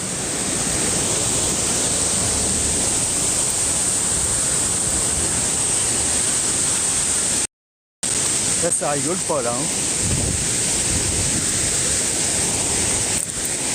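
The Glandieu waterfall rushes in a loud, constant roar of falling water, and a person briefly speaks over it near the end.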